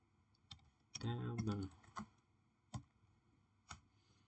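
Clicks from a computer keyboard sound as a short command is entered into a database console, a few separate keystrokes spaced out, with a brief burst of voice partway through.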